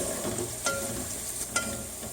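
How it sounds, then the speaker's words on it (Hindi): Onions browning in a pan for chicken curry with bell pepper, a soft steady sizzle with two brief clinks of a spoon against the pan. "प्याज ब्राउन करेंगे। प्याज हमारे ब्राउन हो गए।"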